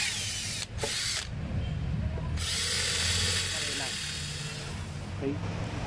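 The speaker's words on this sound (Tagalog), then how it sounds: "Ayan po, barena na po siya." Cordless drill running in sustained bursts, a loud continuous whir with brief pauses and changes in pitch, while a person talks over it.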